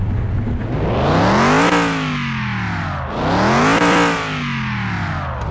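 A supercharged R2 muscle car engine in the video game CMS21 revs twice, each time climbing to a loud, rising whine and then dropping back to a rumbling idle, steady and close with no voices.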